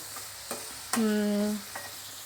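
Chicken being stirred with a utensil in a non-stick pan while cooking chicken chukka: a few short scraping knocks around a brief sustained tonal ring, close and fairly quiet, no talking.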